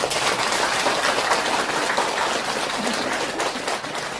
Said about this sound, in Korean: 부처님한테 박수 한번 쳐줘요.